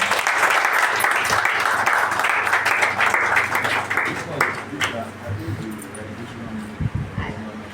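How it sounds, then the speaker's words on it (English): An audience in a room at a Rotary computer lab inauguration in Lagos applauds, a dense burst of clapping that fades out after a few seconds, followed by scattered claps and people talking. "Let's have one more round of applause for everybody."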